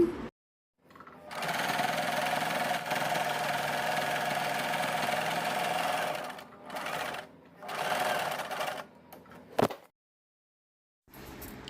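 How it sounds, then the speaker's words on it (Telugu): Sewing machine stitching the edge of a pillow cover, with a long steady whirring run, then two shorter bursts after pauses and a brief knock, close and moderately loud. "ఇంకొక ఎడ్జ్ కూడా ఇలాగే కుట్టేసుకోవాలి"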